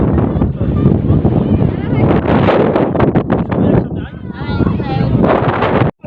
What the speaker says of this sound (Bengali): প্রচুর হাওয়া এখানে দেখতে পাচ্ছ।